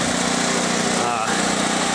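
A Generac GP7500E portable generator runs close by with a loud, steady, buzzing engine drone that fills the whole clip without letting up.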